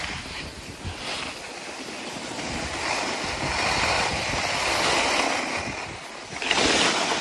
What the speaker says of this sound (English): watch as I try and slide slip all the way down this slope